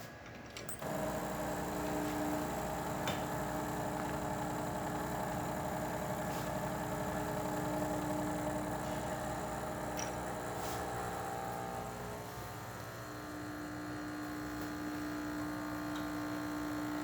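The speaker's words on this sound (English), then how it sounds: "now we'll go ahead and pull a shot" The pump of a Rocket Mozzafiato espresso machine kicks on to pull a shot and hums with a steady, buzzing vibration that continues unbroken for many seconds, close and even, with no talking.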